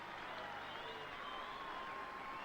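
A Central Park crowd applauds the Wigan rugby league team as the players take the salute, a steady wash of distant clapping and crowd noise that runs unbroken throughout.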